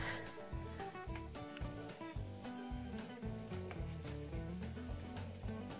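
Minced beef frying in a pan, a steady close sizzle running throughout with dense tonal music playing over it, no talk.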